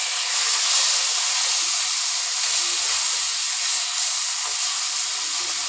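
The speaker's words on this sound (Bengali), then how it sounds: "এই যে কাকাই মাছগুলো ভেজে নিচ্ছি।" Kakai fish frying in a pan, giving off a steady, even hiss of sizzling oil that stays constant for the whole stretch with no talking.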